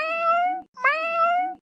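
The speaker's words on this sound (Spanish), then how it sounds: "se acercaron lentamente a Eruaben y comenzaron a maullar" Two kittens meow one after the other, each a clear, drawn-out high cry, close and alone with a brief pause between them.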